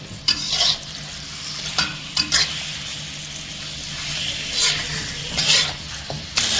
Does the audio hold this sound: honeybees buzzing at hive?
no